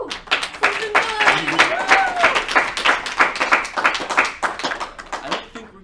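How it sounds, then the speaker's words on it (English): A small group claps and applauds for several seconds, with a few cheers and voices mixed into the clapping. "just give them a round of applause"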